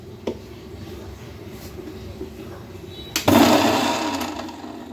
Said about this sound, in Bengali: কাঁচা কাঁঠালগুলোকে একটু ব্ল্যান্ডারে সেদ্ধ করে নিচ্ছি